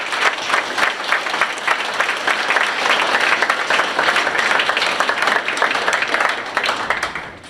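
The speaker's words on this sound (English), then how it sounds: "So again, round of applause for these guys." Sustained, dense applause from an audience at a school pathway celebration honoring students, loud and continuous for several seconds before tapering off at the end.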